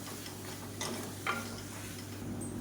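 Sliced capsicum stirred into masala in a pan for variety rice, giving a faint, low sizzle with a couple of soft scraping stirs, quiet and steady.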